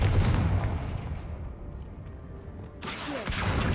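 A Confringo blast spell from Hogwarts Legacy bursts as a loud, booming explosive impact, then a low rumbling tail fades before a second sharp burst near the end.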